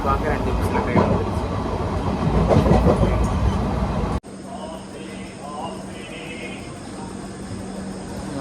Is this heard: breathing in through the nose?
no